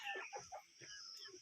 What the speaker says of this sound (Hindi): और यहाँ पे पाली है इन्होंने मुर्गियाँ, ये देखिए दोस्तों।